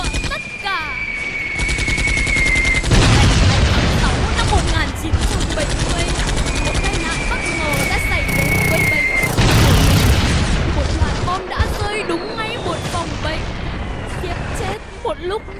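Loud battlefield effects from a war story: heavy booming bomb explosions and rapid machine-gun fire in dense bursts, with a high whistling tone at times, recurring throughout at close, full volume.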